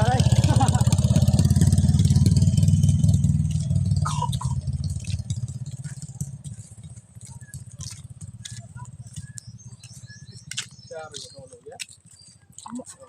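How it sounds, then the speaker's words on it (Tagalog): Motorcycle engine near a river in the countryside: a loud idling rumble up close that gradually fades into the distance, with voices talking and scattered clatter. "May motor ha?"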